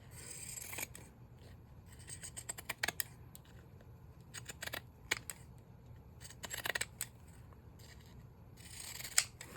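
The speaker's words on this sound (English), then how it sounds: "I'm gonna go ahead and just trim this one up like this" Scissors trim decorated craft paper made with tape, fabric and lace. The snips are close and crisp and come in quick irregular bursts, with quiet gaps between them.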